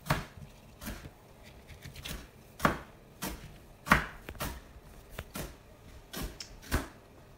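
Ukrainian rhubarb stalks chopped with a knife on a board, a steady series of close, crisp thuds at an uneven rhythm, with no talking.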